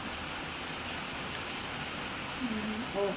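Steady rain falls in a continuous, even hiss with no break, and a brief voice surfaces near the end.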